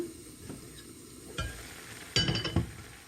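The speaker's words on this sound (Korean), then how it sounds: "뚜껑을 한번 열어보도록 하겠습니다." Quiet kitchen sounds come from a pot of simmering naengi (shepherd's purse) soup as its lid is lifted: a soft clunk, then a brighter metallic clink and rattle against a faint background hiss.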